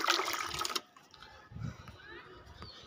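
Water runs strongly from a tap into a container for watering potted plants, a loud gushing that stops abruptly after under a second, followed by quieter trickles and faint room noise.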